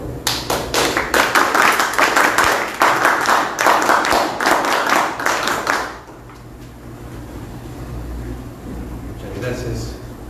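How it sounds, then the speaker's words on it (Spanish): An audience claps loudly in rhythmic unison to close an event, sharp quick beats for about six seconds before stopping abruptly, leaving a quiet room murmur. "Proseguimos con fuertes palmas para el cierre"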